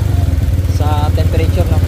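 Motorcycle engine idling close by while an RPM meter is checked, a steady low pulsing throb throughout, with a voice speaking briefly over it.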